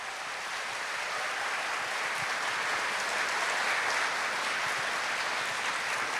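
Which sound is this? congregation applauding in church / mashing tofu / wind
congregation applauding in church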